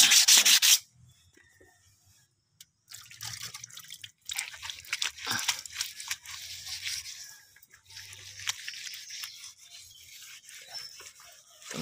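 Sandpaper rubbing over dried putty on a fiberglass repair, a close, scratchy hand-sanding sound in uneven strokes with short pauses and no talk.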